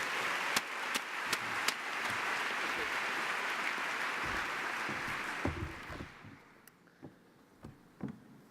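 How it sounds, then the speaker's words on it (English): An audience claps for the startup companies at a business pitch competition finals, a steady dense round of applause that fades into scattered individual claps near the end. "Please join me in giving all these companies a round of applause."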